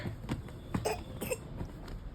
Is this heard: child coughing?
yes